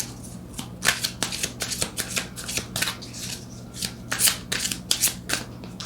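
Tarot cards being shuffled by hand, a rapid run of crisp riffling bursts and flutters repeating across the whole stretch, close and clear with no talking.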